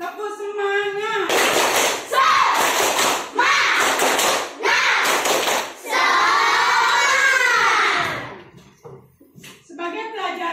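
Children in an Indonesian classroom perform a rhythmic 'tepuk semangat' clapping chant, loud bursts of group claps in a steady pattern mixed with shouted chanting voices, followed by a teacher's voice speaking.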